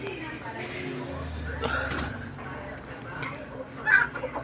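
A red junglefowl hen clucks softly in short bursts while a person talks over it outdoors, with a louder cluck toward the end.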